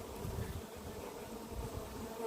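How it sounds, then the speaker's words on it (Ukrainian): Carniolan honey bees buzz thickly around a ten-frame hive, a dense continuous hum heard up close with no voices. "але бджоли валом і сидять, не працюють на люцерну"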